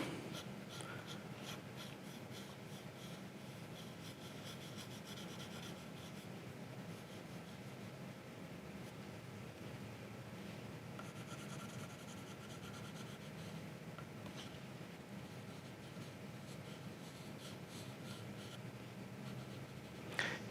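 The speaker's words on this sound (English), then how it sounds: "You can also do a combination of the side of the pencil and the tip of the pencil to get some lines" A pencil shades on paper, alternating the broad side and the fine tip, giving a soft, continuous scratchy rubbing close up with small strokes and no voices.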